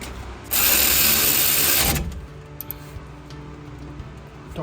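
A ratchet tightens the brake caliper bolts on a 2012 BMW during a front rotor and pad job, giving a loud burst of about one and a half seconds, then faint clicks and handling noises.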